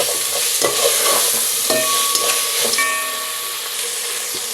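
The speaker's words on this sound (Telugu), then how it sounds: "ఇప్పుడు దీనిలో క్యారెట్ ముక్కలు టమాటా ముక్కలు వేసుకుందాం ఇదంతా బాగా కలుపుకోవాలి" Carrot and tomato pieces fry in a hot pan for egg biryani, with a steady loud sizzle and hiss underneath a few scraping stirs of a spatula, close up and with no voices.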